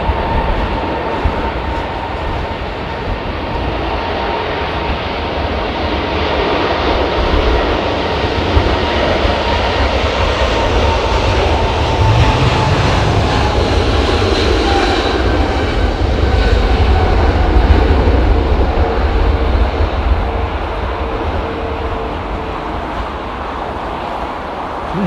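A large airliner roars as it takes off from Heathrow runway 27R in wet, windy weather, a loud sustained jet rumble that swells and holds over the full stretch with no talk.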